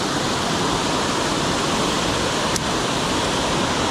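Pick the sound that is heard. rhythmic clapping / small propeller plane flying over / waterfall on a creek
waterfall on a creek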